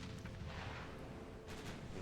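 Quiet, muffled booms from battleship guns in the naval game Ultimate Admiral: Dreadnoughts, with several soft thuds and a rumbling, distant quality across the brief moment and no voices.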